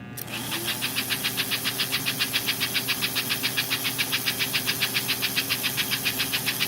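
An S gauge model steam locomotive with a smoke unit runs steadily, giving a fast, even chuff rhythm over a constant motor hum, close and alone with no talk.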